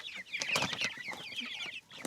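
Several chickens cluck and chatter continuously at close range, with busy overlapping calls and a few sharper squawks.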